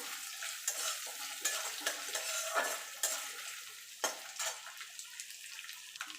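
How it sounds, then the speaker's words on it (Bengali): Chopped coconut fries in a pan for a spiced vegetarian ghugni made without onion or garlic. A steady soft sizzle runs throughout, with frequent scraping clinks and stirring strokes from the pan coming through at close range. "নারকলটাকে একটুখানি লাল লাল করে ভাজা ভাজা করে নেব"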